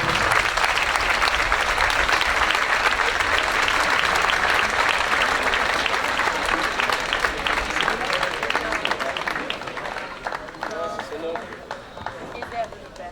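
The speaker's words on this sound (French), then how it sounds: "Amis Julien Ouf, sous vos applaudissements, s'il vous plaît." Loud, sustained applause from a crowd at a bull-racing event in Lansargues, 2021, greeting a retiring rider; dense clapping fills the whole stretch and thins slightly toward the end.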